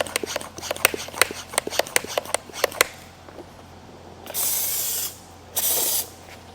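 A trigger sprayer loaded with surface cleaner is pumped over dye on a sprayer boom. First comes a rapid run of clicking ratchet-like pumps, then two distinct hissing spray bursts of about a second each.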